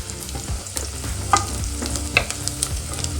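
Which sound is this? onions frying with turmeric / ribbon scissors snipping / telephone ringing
onions frying with turmeric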